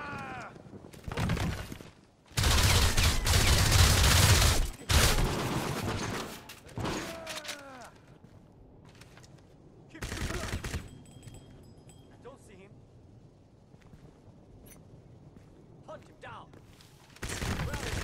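Bursts of heavy automatic gunfire and explosions in the shooter game Crysis Remastered, loud and close, with quieter gaps carrying scattered shots and mechanical clatter between them.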